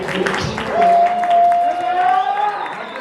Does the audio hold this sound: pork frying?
no